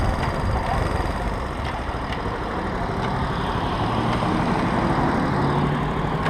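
A motorcycle engine runs steadily and close by, a continuous low rumble with no break and no talk.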